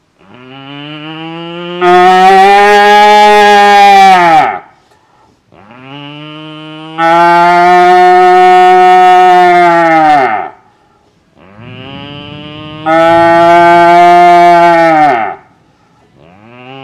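A man imitates a cow's lowing by blowing through a tube, giving three long, loud, drawn-out moos separated by short pauses, each swelling to a strong buzzing peak before trailing off.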